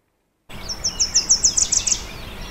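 A small bird chirps in a quick run of about ten bright, high tweets close by, starting after a moment of silence and growing slightly louder before trailing off.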